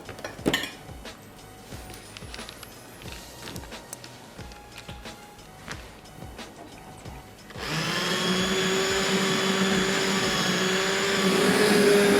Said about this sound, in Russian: будем его теперь взбивать блендером